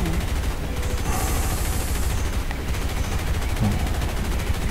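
Rapid aircraft machine-gun fire from a plane in the War Thunder combat game, a dense continuous rattle of bursts mixed with engine roar, loud and steady throughout.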